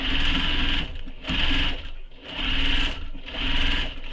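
Sewing machine stitching a satchel runs in four loud, close bursts of rapid mechanical whirring, each lasting about a second with short pauses between them.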